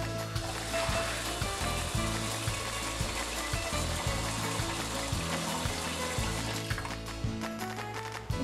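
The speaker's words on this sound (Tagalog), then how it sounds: "At lagyan ng tubig." Water runs from a tap into a pot of washed rice for biko, a steady close splashing and trickling under a low rhythmic background hum.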